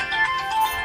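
A mobile phone ringtone plays in a loud, warbling electronic melody that continues through the whole brief clip without speech.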